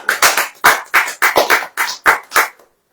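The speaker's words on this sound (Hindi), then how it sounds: "ताली बजेगी नहीं?" A church congregation at a Hindi sermon claps in rhythmic bursts, about eight sharp, loud, evenly spaced clusters of clapping that stop abruptly into silence near the end.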